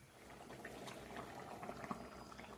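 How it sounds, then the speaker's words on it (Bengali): A pot of water heating toward a boil gives off soft, continuous bubbling and gurgling, faint and close, with no other sounds over it. "তো জলটা এখন ফুটে উঠুক"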